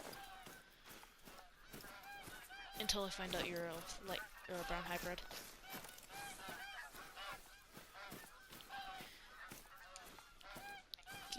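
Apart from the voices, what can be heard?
geese honking in video game Call of the Wild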